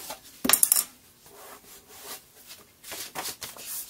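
A bone folder scoring paper for a floral nosegay craft, a short close scraping rub and clatter at first, then softer repeated rubbing strokes, with no voices.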